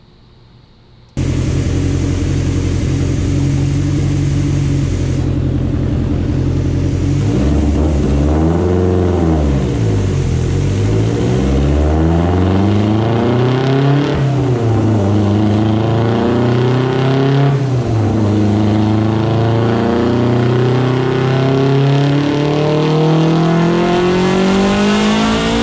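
A 900+ hp Mitsubishi EVO X fitted with a Garrett G42-1200c sidewinder turbo kit, running a little rich, starts up and idles loudly, then is revved repeatedly in long sweeping rises and falls, close and alone for over twenty seconds.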